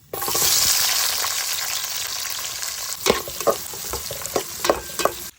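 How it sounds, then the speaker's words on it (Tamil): Onions frying in hot oil with cumin: a loud, bright sizzle that settles, then several sharp clacks of a spoon stirring against the pan, close up. "இப்போ பார்த்தீங்கன்னா வெங்காயம் நல்லா வதங்கி வந்துருச்சு"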